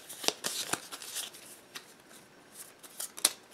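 Cards riffle and snap in several quick, crisp bursts, close and fairly quiet, with no talking, as a deck is shuffled for the board game Assault on Doomrock.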